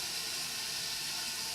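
Water rushing into a toilet tank as it refills after a flapper replacement, a steady close hiss with no pause and no voices.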